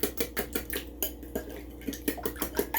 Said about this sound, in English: I'm going to give it a little whisk